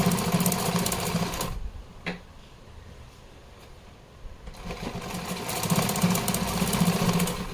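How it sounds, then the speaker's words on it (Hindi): Electric sewing machine stitching a folded channel for a small doll's dress, running in a steady rapid hum for about a second and a half, pausing for several seconds, then resuming for a longer stretch at close range with no talking. "मोड़ थोड़ा थोड़ी दूरी पर मोड़ के हम सिलाई लगाते जाएंगे"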